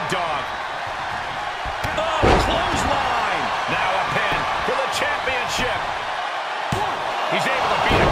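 Heavy body slams and blows land in a WWE 2K22 wrestling match between Roman Reigns and Hulk Hogan, repeated thuds over a steady crowd roar while a commentator talks throughout.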